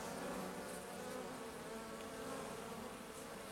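A dense, steady buzzing of many honeybees at a hive, continuous and fairly close, with no talking.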